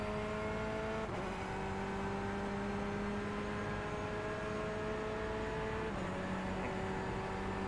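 A faster-class race car comes up on track under yellow-flag caution, heard as a steady, fairly faint engine drone with shifting tones and gear changes, and no one speaking.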